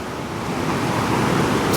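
A forest waterfall makes a steady, dense rushing roar of falling water, loud and unbroken from start to finish, with no voices.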